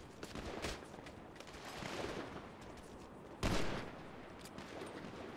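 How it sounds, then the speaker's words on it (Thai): Gunfire from a gun in the video game GTA V rattles in dense, rapid repeated shots, with a sharper, louder burst partway through, heard fairly quietly. "ไอ้ปืนมันยิงกดได้เรื่อยๆเลยปะหมายถึงแบบยิงซ้ำซ้ำตัว"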